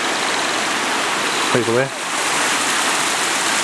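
A creek flows past the site of an old 1960s house in Whistlepipe Gully, making a steady broadband rush of water throughout, with a brief spoken voice partway through.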